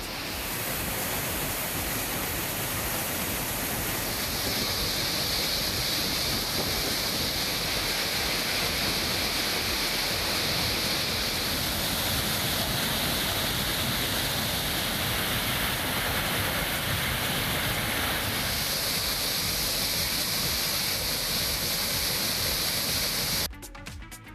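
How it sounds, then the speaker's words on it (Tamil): Flooding waterfalls at Courtallam roar after heavy rain, a dense, steady rushing of water that stays loud and unbroken, heard close with no voices. "இன்று காலை இடைவிடாமல் 5 மணி நேரம் கொட்டி தீர்த்த கனமழையால் குற்றால அருவிகளில் வெள்ளப்பெருக்கு ஏற்பட்டுள்ளது"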